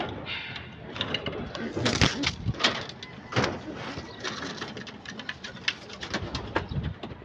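Pigeons coo softly while being moved into a cage, the low calls mixed with rustling, wing flutters and clattering handling noises nearby, with a person talking over parts of it.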